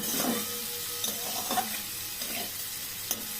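Vegetables fry over low heat in a pan while being stirred, a soft continuous sizzle broken by several scraping stir strokes and light clinks of the utensil, close and fairly clear with no talking.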